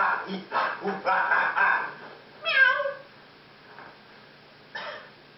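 A person imitates a cat's meow, a short rising-falling vocal mew after some speech, followed by quiet and a brief fainter sound.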